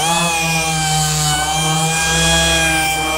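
An electric sander distresses the wooden surface of a Fairfield media center, giving a steady, loud, close-up motor whine with a constant buzzing hum and no pauses.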